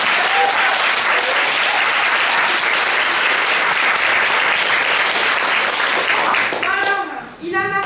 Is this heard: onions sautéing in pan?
no